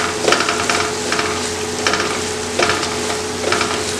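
A spoon scrapes rhythmically through fish biryani masala sizzling in a pan with lime juice, giving repeated stirring strokes about once a second over a steady frying hiss.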